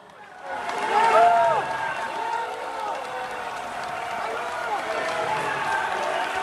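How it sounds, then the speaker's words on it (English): A Russian crowd chants against the war, voices rising together in a swelling, rhythmic chorus heard from a distance, with a news anchor's talk laid over it. "What they're chanting there, the crowd in Russian, is F the war."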